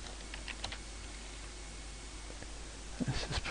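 Fast, uneven typing on a computer keyboard while entering text into a website editor, soft clustered key clicks close by with no talking, getting a little louder and busier toward the end.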